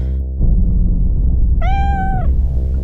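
A single clear, drawn-out cat meow rises in the middle over a low background rumble, close and fairly loud.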